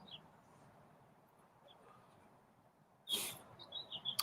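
A small bird gives a few faint chirps, then a louder burst of quick, close, high tweets near the end over a quiet background.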